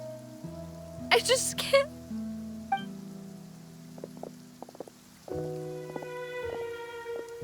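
Soft rain falls steadily in a Genshin Impact scene, a faint patter beneath game music chimes and tones, with a brief burst of noise early on and a voice speaking briefly.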